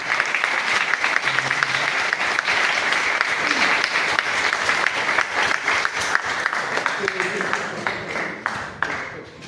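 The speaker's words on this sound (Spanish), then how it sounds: "Un aplauso para el doctor." Applause from an audience at a university diploma presentation, a steady wash of clapping with some individual claps standing out and faint voices underneath, fading near the end.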